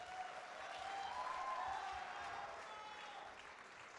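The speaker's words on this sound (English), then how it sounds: "I think we should give them a round of applause." Audience at a Mr. Naughtica pageant applauding, a steady wash of clapping heard from a distance at a fairly low level, swelling slightly then easing off.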